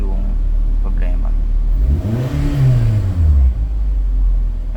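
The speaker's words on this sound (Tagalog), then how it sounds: "Try natin bombahin kung matagal bumaba yung RPM." A 2011 Suzuki Swift's engine is revved to high RPM, the tone sweeping up and holding before falling slowly back toward idle, loud and close, with a faint rumble throughout.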